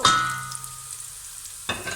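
Food sizzles and spits steadily as it is stir-fried in a hot pan over very high heat, with a metallic clank at the start and a utensil scrape near the end.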